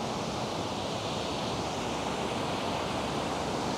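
The clean, clear Smith River flowing steadily in a redwood forest, a continuous broadband rushing wash heard close and unbroken throughout, with no voices.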